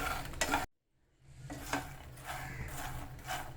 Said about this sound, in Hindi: और काली मिर्च पाउडर डाल देंगे हम इसमें, और इनको अच्छे से मिक्स कर देंगे।